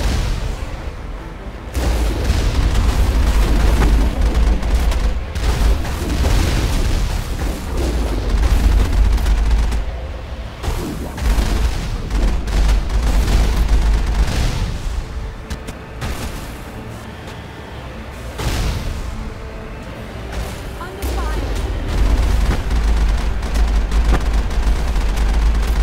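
Rocket explosions and gunfire in the Mass Effect video game, a dense, continuous barrage of booms and blasts over a rumbling vehicle engine, staying loud for the whole stretch.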